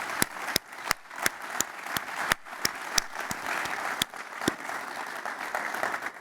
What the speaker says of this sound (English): Please join me in giving a tremendous round of applause to Mark.